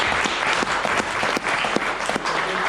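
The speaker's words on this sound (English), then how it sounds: "Round of applause, please." Audience applause for a raffle winner at a safety branch meeting, a dense, steady wash of clapping from a room full of people, loud and continuous throughout.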